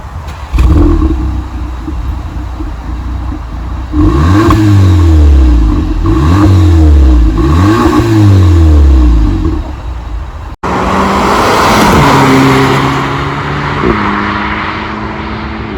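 A VW Polo GTI fitted with a Milltek GPF-back exhaust revs repeatedly, the engine note climbing and falling in loud, rising sweeps before a brief cut and a final set of shorter blips.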